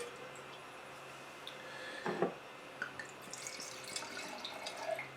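A wine glass is rinsed with Muscadet. Faint, close drips and a small liquid splash sound in a quiet room, followed by scattered light trickles and soft clinks.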